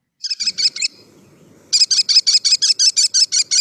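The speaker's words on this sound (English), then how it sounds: "This is a common sound in the city, once you know it. That is the kestrel." An American kestrel calls in a city, giving a short burst of shrill, rapid notes, a brief pause, then a longer run of about a dozen evenly spaced piercing cries over faint low background rumble.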